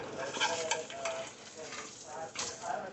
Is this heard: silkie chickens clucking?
no